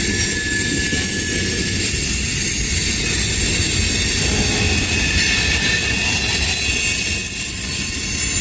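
A freight train of grain hopper cars loaded with potash rolls past close by, a loud continuous rumble and rattle with high metallic wheel squeal running throughout.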